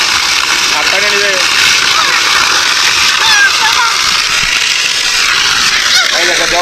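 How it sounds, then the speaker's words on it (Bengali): Water released from a rooftop pool rushes and splashes in a constant loud wash, with excited voices and shouts mixed in throughout. "এই দেখো জল সব ছেড়ে দিয়েছি"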